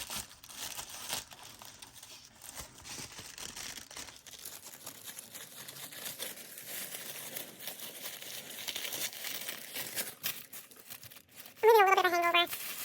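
Paper being cut and handled for a journal cover, soft close crinkling and snipping throughout, with a brief louder rustle near the end.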